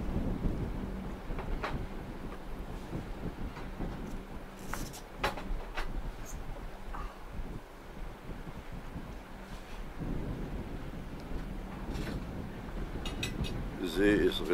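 Wind blows at sea aboard a catamaran near the Seychelles, a steady rumbling wind buffeting the microphone, with a voice speaking now and then.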